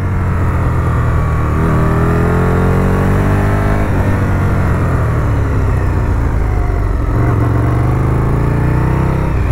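An Aprilia RSV1000R motorcycle being ridden on a rough road: a loud, continuous engine roar close by, with pitch rising and falling as the rider shifts through gears.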